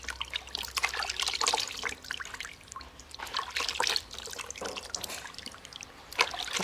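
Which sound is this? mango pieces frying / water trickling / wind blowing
water trickling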